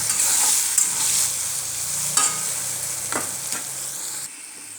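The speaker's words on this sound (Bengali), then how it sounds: "আলুটা দিয়ে নিয়েছি, দিয়ে দেব হাফ চা চামচ লবণ, হাফ চা চামচ হলুদ। এবার ভালো করে ভেজে নেব।" Potatoes frying in a pan with salt and turmeric, a loud continuous hiss of hot oil with occasional scraping from stirring, close up and with no talk.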